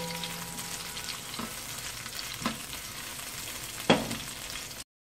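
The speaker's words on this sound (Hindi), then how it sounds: "मिर्चों को जो है ज़रा सा मैं फ्राई कर थोड़े से उठा लेती हूँ राइस के ऊपर" Green chili slices fry in a pan alongside a little garlic for Singaporean rice, giving a continuous close sizzle broken by a few spatula scrapes, the last one loudest before the sound cuts off.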